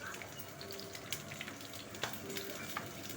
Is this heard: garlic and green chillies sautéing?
yes